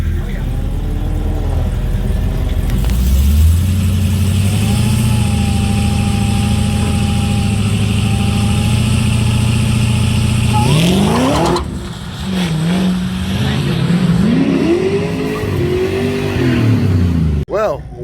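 A drag car on 24 PSI tires launches at 1200 rpm with an old tune. A loud engine idles and revs, then the car hops and shudders as it pulls away. A tire chirps, and the engine note rises and falls.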